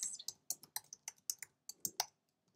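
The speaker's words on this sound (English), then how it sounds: "So let's type some text." Text being typed on a computer keyboard, a quick, uneven run of about a dozen close, crisp key clicks, alone and fairly quiet.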